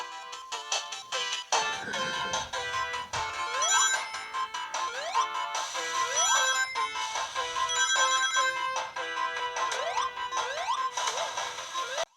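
An Anbernic RG40xxV handheld gaming console plays at full volume through its small built-in speaker: a bright, chirpy electronic melody of quick rising tones that repeats steadily.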